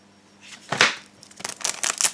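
Trading cards pulled out of a freshly opened booster pack, crisp papery slides and flicks in quick bursts, close and fairly loud, with no voices.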